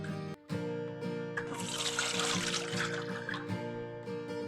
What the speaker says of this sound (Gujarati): જેને પાણીથી 2 વાર ધોઈ લઈએ.